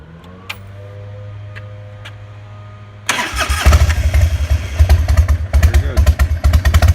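A Harley-Davidson FXDL motorcycle cranks with a steady starter whir for about three seconds, then the engine fires and catches into a loud, lumpy, throbbing idle that runs to the end.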